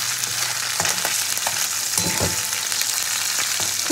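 Small morola fish fry in hot oil in a pan, a continuous close sizzle with occasional light scrapes and pops, no voices over it.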